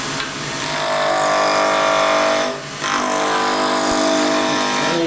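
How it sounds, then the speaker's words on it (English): Wood lathe spinning timber up to speed while a roughing gouge cuts it, a loud continuous whirring and scraping hiss with a brief dip midway, no talking. "Speed the lathe up."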